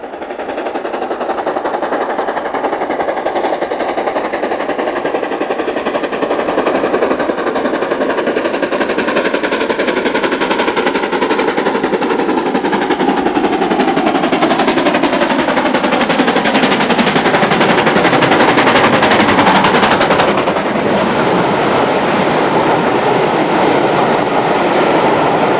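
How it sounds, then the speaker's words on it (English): LMS Black 5 steam locomotive 44767, fresh from major tender repairs, working a test run on the Derby–Sheffield circuit: a loud, rapid, continuous exhaust beat roars steadily throughout, with no voices. "Another performer on the Sheffield test circuit was Ian Storey's Black 5 number 44767."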